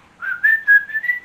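A phone notification tone plays once as a short whistle, a clear, close, rising-then-level trill in wavering pulses lasting about a second, heard alone.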